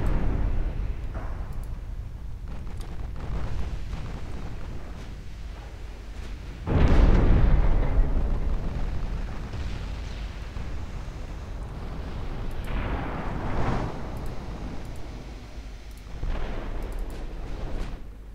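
Naval guns fire in the Ultimate Admiral warship game, with a loud, heavy boom near the middle, distant rumbling salvos scattered through the rest, and low battle ambience throughout.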